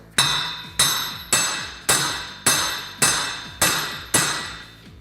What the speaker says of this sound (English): take a socket, you're gonna go around the axle, and fit right here on the hub and take it and tap it on